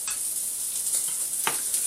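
Pork chops and onions frying in a pan, giving a steady close hiss of sizzling fat with a few brief crackles and stirring sounds.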